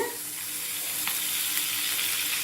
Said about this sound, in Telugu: ఈ బాండీలో ఇవి వేసేద్దామండి ఒక స్పూన్ ఆయిల్ వేద్దామండి